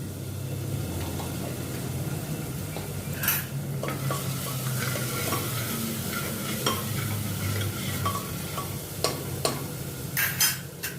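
Asafoetida tempering fries in oil with aromatics in a pan, a steady low sizzle under regular spoon-against-pan scrapes and taps, with a cluster of sharper metallic clinks near the end.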